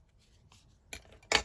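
Scissors trim paper edges for a junk journal, giving two quick close snipping cuts near the end after faint rustling, the last one louder and sharper.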